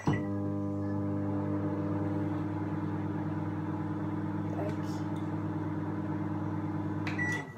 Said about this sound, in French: Donc je vais la mettre au micro-ondes 5 secondes.